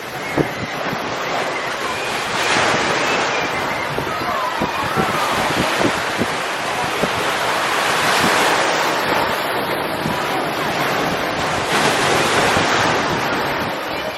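Ocean waves surge and crash onto the shore in repeated swells, loud and close, with steady wind rumble on the microphone and no voices.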